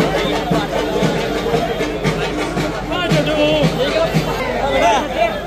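Dense crowd chatter and babble during a festival vehicle procession in Jalgaon, with voices close and overlapping continuously throughout.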